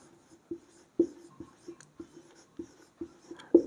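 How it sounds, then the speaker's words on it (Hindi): Chalk or marker taps and scrapes on a board during a chemistry lecture, a sequence of short, distinct strokes at a fairly regular pace, close and clear with no talk over them. "यहां पर आप लोगों के साथ मैं लिखता चलता हूं"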